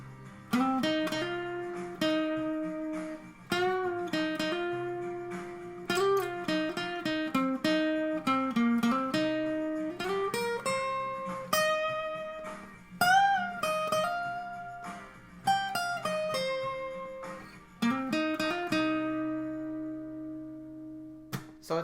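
A solo guitar plays a lead solo, with bends and quick runs, continuing phrase after phrase for about twenty seconds with no voices.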